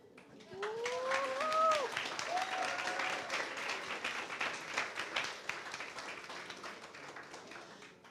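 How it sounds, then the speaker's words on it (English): A graduation audience at a Barcelona campus ceremony breaks into sustained applause, a dense wash of many hands clapping that swells early and then gradually thins, with faint cheering voices mixed in. "don't hold back your applause for every single student we call in"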